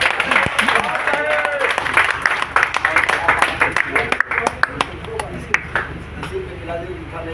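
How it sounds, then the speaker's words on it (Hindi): Hearty clapping fills the hall at an LIC 67th anniversary honour ceremony, many close, sharp handclaps in an irregular burst that thins toward the end, with people talking and calling out over it. "देखिए इसके लिए जोरदार तालियां।"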